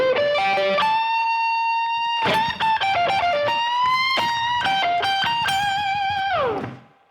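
An electric guitar plays a blues lick in minor pentatonic, clean bent and sustained single notes with a couple of quick phrases, ending on a long note that bends down and fades.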